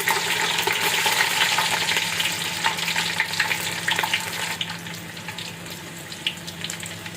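Garlic, whole garam masala and two dried red chillies frying in about half a kilo of hot oil for a sweet-sour mango pickle, a steady crackling sizzle with stirring scrapes, close and continuous.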